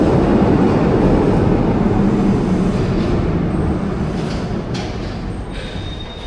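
An old Budapest metro train runs underground, a loud, close rumble of wheels and car noise that slowly fades over about six seconds, with faint squeals near the end.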